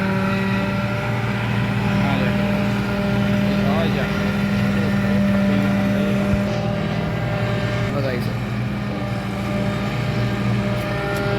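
A tractor engine strains at steady high load while pulling a loaded trolley out, a loud continuous droning rumble with a strong hum, and people talk over it.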